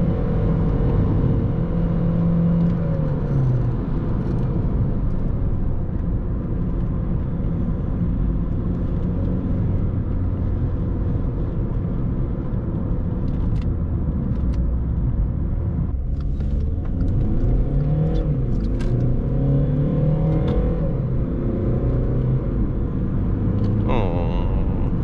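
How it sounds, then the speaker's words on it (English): A VW Polo V with a 1.6 TDI 90 hp diesel and 7-speed DSG heard from inside while driving: a steady engine drone and road rumble, with revs climbing and dropping through smooth gear changes. "Really cool to drive with that DSG."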